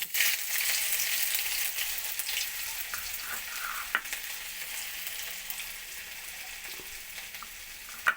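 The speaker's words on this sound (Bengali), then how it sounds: "এর মধ্যে দিয়ে দেবো আদা" Steady oil sizzling and crackling in a pan as chopped ginger fries with panch phoron spices, with faint stirring clinks, close and continuous throughout, no voices.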